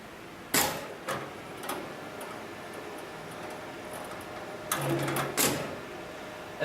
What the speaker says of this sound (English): turn the power button on for the motor, which activates the computer and also the motor for the sewing machine